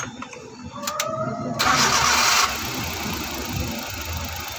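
A Suzuki DA64 engine, freshly repaired for a cylinder 1 misfire, cranks briefly and catches, then settles into a steady, fairly loud idle with a broad mechanical hum close by.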